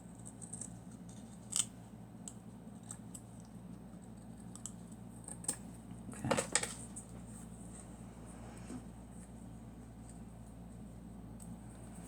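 Scissors cutting a small paper die cut, giving a few faint, sparse snips and clicks over a quiet background hum, with one brief cluster of louder cuts near the middle.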